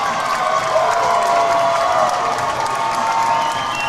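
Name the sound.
hockey crowd cheering and applauding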